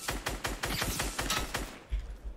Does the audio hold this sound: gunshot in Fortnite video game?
yes